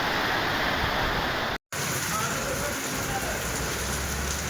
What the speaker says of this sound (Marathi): त्यानुसार दुपारून पाऊस आलेला आहे